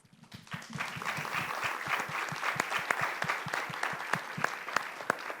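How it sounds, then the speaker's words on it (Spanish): A panel audience at a 2023 creative districts gathering applauds to welcome the panelists, a steady, dense round of clapping that holds at full strength for several seconds with no talk over it. "Así que ante todo, un aplauso para recibirles."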